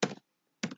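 Two short, close clacks on a computer keyboard, separated by a brief silent gap.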